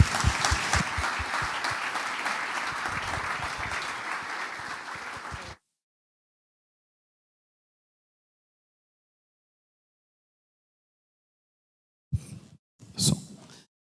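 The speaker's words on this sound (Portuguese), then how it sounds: "Vamos aplaudir Jesus na vida deles?" A church congregation applauds during an evening family-month service, a warm sustained round of clapping lasting about five seconds before it cuts to silence, followed near the end by a couple of brief faint sounds.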